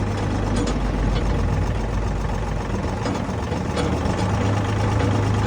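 A Kubota ZL1 225 tractor engine runs loud and close at raised speed, a constant heavy diesel drone that holds steady from start to finish.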